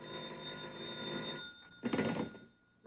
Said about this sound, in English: And then a bell started ringing somewhere and woke me out of a sound sleep.